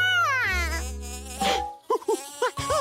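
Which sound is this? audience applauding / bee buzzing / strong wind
bee buzzing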